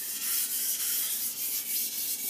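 Takeda gyuto kitchen knife sharpened on Japanese whetstones, an Imanishi 1K and a Blue Aoto 2K, giving soft, rhythmic gritty scrapes in quick back-and-forth strokes, close and fairly quiet.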